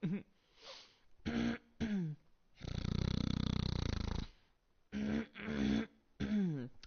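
A man clears his throat in a few short, raspy bursts, with one long, loud, guttural rumble in the middle, close to the microphone during a live gaming stream.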